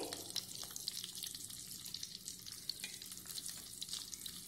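Hyderabadi bagara baingan, eggplant in masala, cooks on a low flame, a soft crackling sizzle with faint clicks and occasional stirring, quiet and even throughout.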